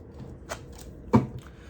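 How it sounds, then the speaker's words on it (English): Tarot cards being shuffled, heard as a few brief, close papery riffles and taps, the loudest burst near the end, with quiet gaps between. "Maybe shuffle and see if any other extra message comes for you guys."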